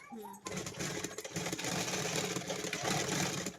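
Sewing machine stitching a pocket onto a pair of trousers, a steady close whirring that starts after a brief pause and runs without break, with a voice talking over it.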